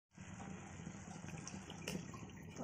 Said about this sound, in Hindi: तो चलिए पानी ऐड कर देती हूँ,